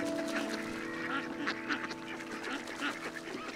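Several ducks quack in a busy, overlapping chorus, moderately distant, with a faint steady hum underneath.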